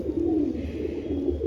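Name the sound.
pigeon cooing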